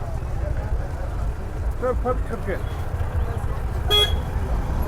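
Car horns honking in street traffic outside a music festival, a few short toots over steady engine and crowd noise, with someone talking throughout.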